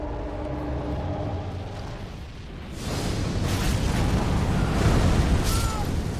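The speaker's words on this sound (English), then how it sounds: "the explosion pushed me back" A low rumbling blast in the Elden Ring video game swells from a quieter bed into a heavy, sustained roar, loud and near, with faint tonal game effects around it.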